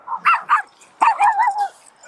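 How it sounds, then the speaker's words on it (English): Several sharp dog barks at a seaside dog barking competition at Telscombe Cliffs: two quick barks, a pause, then a longer run of yelping barks, close and fairly loud with no talk. "we're at the dog barking competition"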